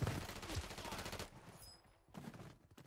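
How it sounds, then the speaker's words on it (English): Rapid gunfire rattles in an online multiplayer shooter video game, fairly quiet and densest in the first second before thinning out. "You guys shooting at me."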